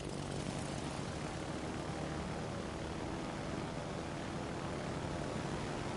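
Torpedo bomber planes flying in World of Warships: Legends, a steady, unbroken propeller-engine drone with a broad rushing roar at constant loudness throughout, and no voices.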